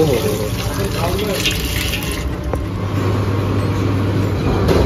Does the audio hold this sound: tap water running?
yes